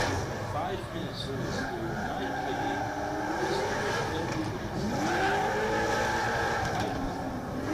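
A drift car at the Oman International Drift Championship 2023 warming its tyres: loud, continuous engine revving with rising and falling pitch and tyre squeal, steady throughout.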